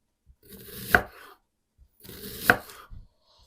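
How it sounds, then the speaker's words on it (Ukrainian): Two crisp knife chops slicing an onion into rings on a cutting board, about one and a half seconds apart, close and clear with a soft slicing rustle around each stroke. "Ось так всю цибулю будемо нарізати"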